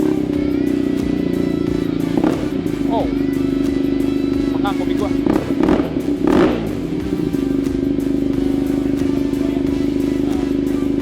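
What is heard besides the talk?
BMW boxer motorcycle engine revving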